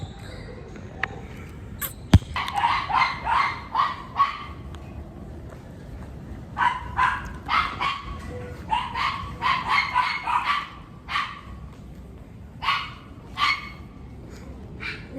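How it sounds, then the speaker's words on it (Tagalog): Several dogs bark and yip in rapid bursts at moderate distance outdoors in the dark, clustered in repeated runs, with a sharp knock near the start and a quiet background between barks. "And maraming aso."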